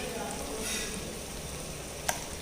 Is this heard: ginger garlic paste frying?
yes